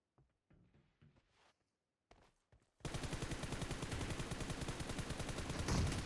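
Rapid automatic gunfire from the mobile battle-royale game PUBG Mobile, loud and continuous for the last three seconds after a few quiet scattered taps and shuffles.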